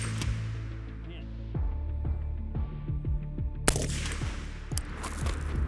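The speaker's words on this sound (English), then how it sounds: "this is 300 blackouts, so we're going to shoot some supers and subs." A LAW Tactical ARIC-equipped SIG MCX rifle fires 300 Blackout supersonic and subsonic rounds outdoors, a series of sharp cracks at uneven intervals, some close together, with one especially loud shot among them and a low motor-like hum throughout.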